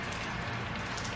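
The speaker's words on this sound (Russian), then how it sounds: "Дождь идет." Dense, steady patter of rain falling on a surface, an even hiss with no voices.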